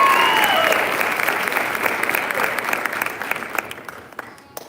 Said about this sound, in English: just one more round of applause for these guys